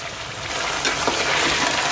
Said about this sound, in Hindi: अच्छी तरह से मसाले को हमें भून लेना है तेज आंच पर।